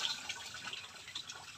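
Water poured over a person during a bath, splashing and trickling in a steady run of bright, close spatters with small irregular surges.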